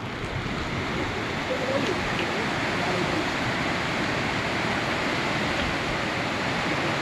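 Monsoon water rushes at Bavli Dam on the Darna River, a loud, unbroken roar of flowing water heard from nearby throughout.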